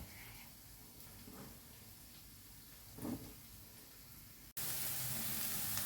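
Chunks of large eggplant hit a hot oiled frying pan: a quiet background hiss gives way, after a short clatter, to a sudden loud, steady sizzle that continues close and strong.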